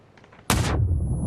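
A single loud gunshot from the PUBG battle royale game cracks out after a quiet moment and leaves a sustained low rumbling echo tail, heard alone without talk.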